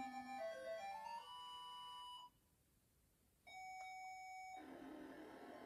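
Atari 7800 game music played through RetroArch on a 2017 Xiaomi Mi TV 4A: loud synthesized bell-like tones and beeping melody, stepping in pitch, with a short quiet gap before a sustained tone and a buzzy ending.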